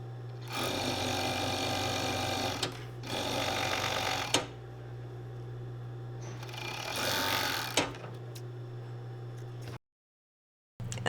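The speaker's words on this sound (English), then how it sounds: "And then we serge." A serger sewing machine runs in close bursts while stitching a seam on a pillow with a metal zipper, whirring steadily for a couple of seconds at a time with short pauses and handling noises between runs.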